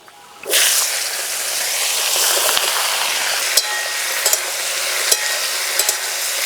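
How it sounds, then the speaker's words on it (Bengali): Tender ushi pieces drop into hot oil left from frying fish, bursting into a sudden loud hiss that settles into a steady, close sizzle broken by occasional crisp pops. "মাছ ভাজা তেলেই উশি ভেজে নেব।"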